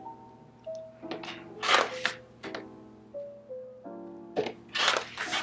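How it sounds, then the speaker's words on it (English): A rotary cutter rolls along a ruler through quilt paper, giving a few short, crisp rasping cuts close by, set against soft background music with steady tones. "you're just going to take your ruler and rotary cutter and cut on that line"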